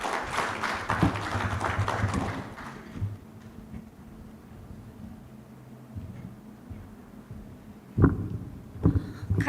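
An audience applauds at a Kenya launch event, a broad patter of clapping that is strongest at the start, thins into scattered claps and room murmur, then picks up again with a few sharp claps near the end.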